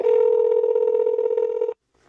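A telephone rings with a single steady electronic tone, loud and sustained for nearly two seconds before cutting off abruptly into near silence.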